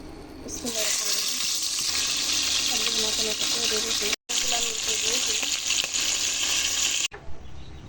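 Hilsa fish from Chandpur frying in plenty of hot oil, a steady loud broadband sizzle running almost the whole time with a brief gap, while a voice talks underneath.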